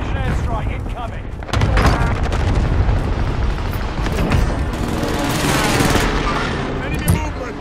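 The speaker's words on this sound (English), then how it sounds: "Allied precision airstrike incoming" Precision airstrike explosions in a multiplayer shooter video game, heavy booms layered with rapid gunfire in a continuous loud barrage, with game voice callouts under the blasts.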